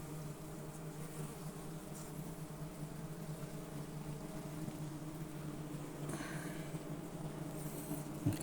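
Cordovan honeybees swarm around an open hive, a continuous low droning hum with a steady pitch. The buzzing stays close and even, with a few brief sharper sounds near the end.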